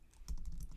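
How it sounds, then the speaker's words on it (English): Keys clatter on a computer keyboard in a quick burst of close, crisp taps, with no talking. "then we need to type"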